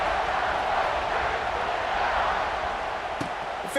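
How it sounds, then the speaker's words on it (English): Stadium crowd at an Ohio State vs Oregon college football game, a steady broad roar and murmur holding at even loudness throughout, with no voices standing out. "this crowd is buzzing after that last score"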